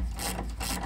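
A hand ratchet clicks in short rapid bursts while snugging bolts during a front leveling kit install on a 2017 Ram 1500 truck, close and fairly loud with no talk.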